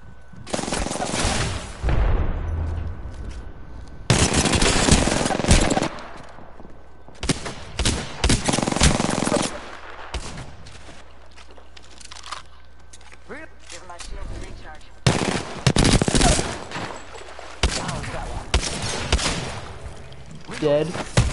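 Repeated bursts of automatic gunfire in Apex Legends, loud and close, coming in several separate volleys spread across the scene, with a player talking in between and sometimes over the shots.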